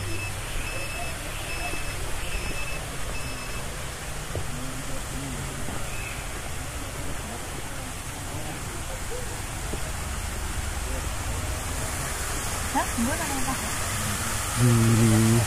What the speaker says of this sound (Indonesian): Nah, ini dia ada aliran air terjun kecil.